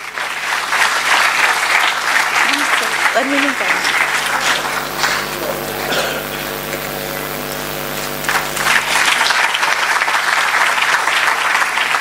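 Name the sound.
audience applause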